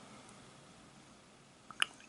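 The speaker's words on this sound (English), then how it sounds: "This is a bulb syringe, and what you want to do is you want to suck it up with water." A rubber bulb syringe draws in water for cleaning a fountain pen, giving one brief, soft squelch and slurp near the end of an otherwise quiet stretch.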